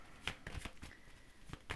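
Tarot cards being shuffled and handled in a French tarot reading: several crisp riffling flicks and slaps in an irregular rhythm, close and fairly soft, with no talk.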